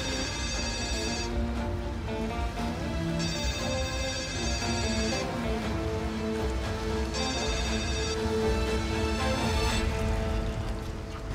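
A phone rings in repeated bursts with pauses between them, over a continuous rumbling background, and keeps ringing for about eleven seconds before it is answered.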